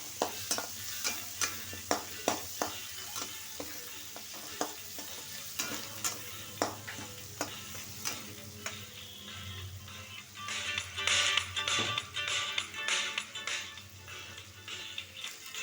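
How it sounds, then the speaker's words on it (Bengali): Onion and potato fry and get stirred in a pan, a steady sizzle broken by repeated sharp scraping strokes of the spoon, close and fairly loud with no talking. "পেঁয়াজ আলু ভালোভাবে এটা ভাজি ভাজি করবো"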